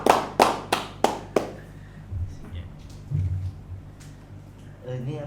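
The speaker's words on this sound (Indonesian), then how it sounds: "Tepuk tangan dulu kan ya?" A few sharp hand claps ring out in quick succession near the microphone at a podcast recording, then stop as people go on talking.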